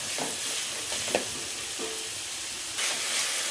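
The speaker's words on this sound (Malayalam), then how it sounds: "ഉള്ളി ഇങ്ങനെ മൂത്ത് വന്നുകൊണ്ടിരിക്കുകയാണ്" Chopped onions frying in a pan for Kerala egg thoran, giving a steady close sizzle with light stirring scrapes and a few soft clicks, no talking.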